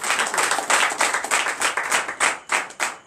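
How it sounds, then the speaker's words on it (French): A church congregation applauds at a Friday night deliverance and prophecy service, dense steady clapping from many hands that rises and falls in waves throughout. "Donnez l'acclamation."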